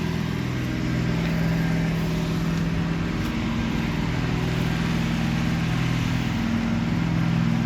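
A black DTZ 5244HPX mini tractor engine idles steadily nearby, a continuous low droning hum with a mild rhythmic throb and no talking.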